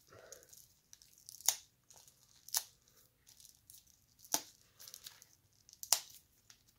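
Sharp crinkling and tearing bursts of plastic packaging, four louder rips spaced a second or so apart between quieter fumbling rustles, close up.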